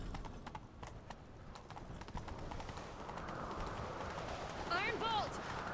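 Horse hooves clip-clop at a steady run in The Witcher 3, constant and fairly close, with a brief whinny near the end and a voice speaking over the hoofbeats.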